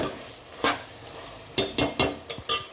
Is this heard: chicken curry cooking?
yes